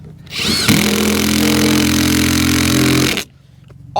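A power tool drives bolts straight into a board while a mailbox is installed. A loud, steady motor whine runs for about two and a half seconds and then cuts off abruptly.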